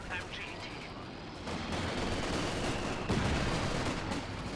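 Sustained machine gun fire from a Vickers in the Company of Heroes 2 strategy game, a dense continuous rattle of battlefield gunfire with distant rumbling, fairly loud throughout.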